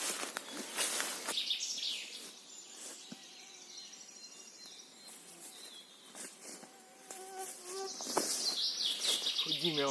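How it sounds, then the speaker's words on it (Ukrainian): A small bird sings nearby in short chirping phrases in a forest during mushroom picking, with buzzing insects and faint background rustle. "тут пташка неподалік співає, вона ніби мене гукає"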